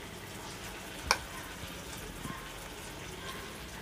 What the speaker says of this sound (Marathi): त्याच्यामध्ये आपण हे वडे सोडूया।